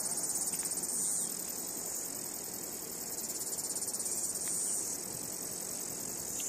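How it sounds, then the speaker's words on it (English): Cicadas sing on a hot summer day on Mount Maunganui, a continuous, loud, shimmering high drone that pulses steadily throughout with no other sounds over it. "You know it's a hot day when the cicadas are singing."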